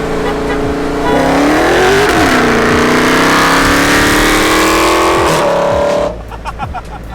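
Dodge Hellcat accelerating hard in a roll race, loud close engine roar climbing steadily through the revs with gear-shift dips for about six seconds before cutting off, leaving faint background voices.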